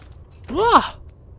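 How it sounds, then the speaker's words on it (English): A big yawn in the Skyrim video game, a single short voiced groan that rises and falls in pitch, close and fairly loud against a quiet background. "Big yawn."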